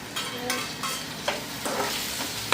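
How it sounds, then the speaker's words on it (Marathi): Chopped onion, already golden, and freshly added tomato sizzle in a hot pan for a masala idli recipe, with a steady frying hiss broken by several sharp scrapes of a spoon stirring close by. "हे सर्व छान फ्राय करून घेते"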